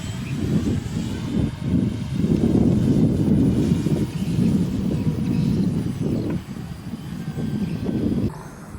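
A radio-controlled Bonanza A-36 model airplane with retractable landing gear flies overhead, its propeller motor giving a steady, rough droning roar that swells and fades slightly as it passes, mixed with wind buffeting, no talk.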